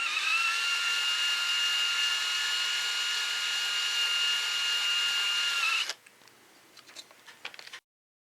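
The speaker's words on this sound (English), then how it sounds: "So I finished up drilling these pilot holes with the center drill." A steady, high-pitched drill whine runs continuously for about six seconds as a center drill cuts pilot holes in a 3D-printed V8 motor, then cuts off, leaving a few faint clicks and light taps.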